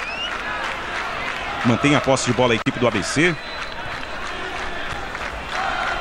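Home crowd of ABC supporters murmuring through a football stadium during a Série B match, a steady broad roar under a commentator's play-by-play voice.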